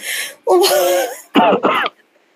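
A few audience members at a session cough and clear their throats in a short burst, one long rough cough followed by two quick ones, then silence.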